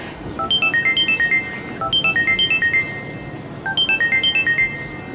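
A melodic phone ringtone for an incoming call plays three times in repeated bursts of bright chiming notes, loud and clear over a faint background hum.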